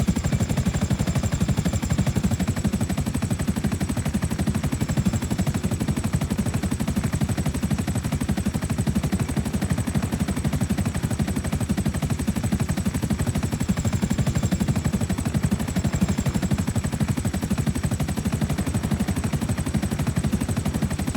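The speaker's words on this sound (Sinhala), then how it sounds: "මෙන්න මෙතනින් අපි ලෑන්ඩ් කරගමු ගයිස් චොපර් එක." A helicopter in the video game GTA V comes in to land, its rotor and engine a steady loud drone with an unchanging wash of noise that continues alone throughout.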